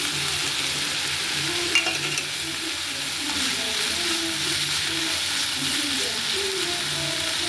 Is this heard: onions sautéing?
yes